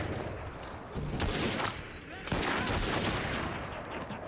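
Rapid bursts of gunfire from the video game Assassin's Creed Syndicate, loud and dense, crackling in two sustained volleys with a brief lull between them and voices faintly underneath.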